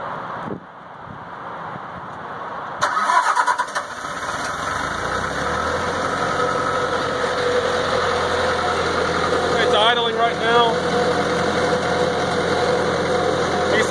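A 1986 Air-A-Plane 5050D heater cart engine, glow-plug started, cranks after a quiet opening and catches within a few seconds, then settles into a steady, rough, close idle with occasional knocking. Someone speaks briefly over it.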